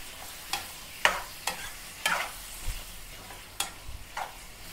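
Boneless mutton frying in a pan, with repeated short scrapes of a spatula stirring the meat at a steady pace over a soft sizzle, fairly close and moderately quiet.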